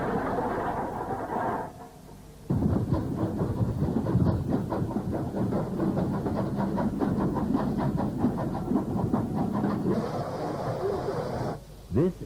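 A British West Country class steam locomotive, number 34047, chuffs past with rapid rhythmic exhaust beats and rail clatter, loud and close, with speech over it at times.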